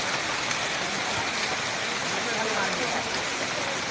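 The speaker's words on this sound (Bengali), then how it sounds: "ঝড় বৃষ্টি তুফান চলছে দেখুন তালমা হাটের দিকে প্রচুর ঝড় বৃষ্টি" Heavy storm rain pours steadily at Talma Hat near Jalpaiguri, an even, dense hiss of falling water with no break.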